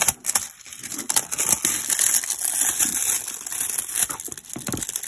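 Cellophane wrapping is torn off the box of a Genius GM 6 computer mouse, making loud, close, continuous crinkling and crackling with short sharp rips, and no voices.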